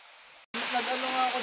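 The first layer of Five Layers Falls of Tarias in Antipolo City pours as a loud, steady wash of rushing water, broken by a brief dropout near the start, then continuing full and close.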